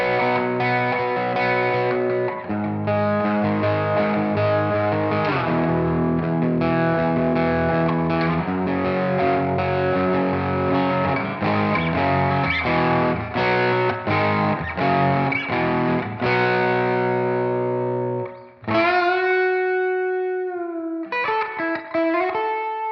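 An overdriven electric guitar through a Line 6 Helix with York Audio cabinet impulse responses plays loud, sustained distorted chords and riffs. It ends with a few ringing, cleaner-sounding notes.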